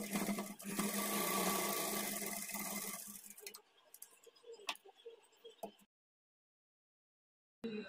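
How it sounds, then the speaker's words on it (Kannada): A sewing machine stitches the second side of a blouse in a steady close run for about three seconds, then softer handling noises follow before it falls silent, with a brief sound at the very end. "ಈಗ ಇನ್ನೊಂದು ಸೈಡು ಸ್ಟಿಚ್ ಮಾಡ್ಕೊಳ್ತೀನಿ"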